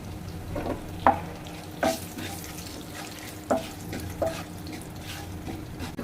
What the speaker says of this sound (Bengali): আমি একটু জিরার ফোড়ন দিয়ে দিলাম, একটা তেজপাতা এভাবে আমি চিড়ে দিয়ে দিলাম